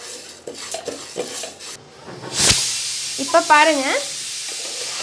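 Sambar ingredients dry roasting in a pan, with a soft sizzle and hiss, the scrape and clink of a spoon stirring against metal, and someone speaking briefly over it.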